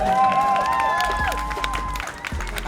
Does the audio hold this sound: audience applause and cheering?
yes